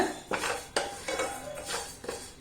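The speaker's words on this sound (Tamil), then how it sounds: "இப்போ ஒரு நிமிஷம் லேசாக வறுத்துட்டு பார்ப்போம்." Lentils and rice being dry-roasted in a clay pot, stirred with a utensil that makes four or five distinct scraping, clattering strokes, fairly quiet and close with no talking.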